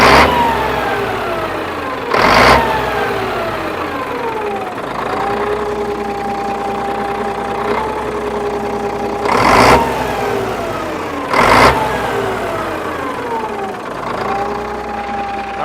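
Diesel engine of a cabover truck runs close and loud at a steady idle, its tone sliding up and down as revs rise and fall, punctuated by several sharp broadband bursts; no one speaks.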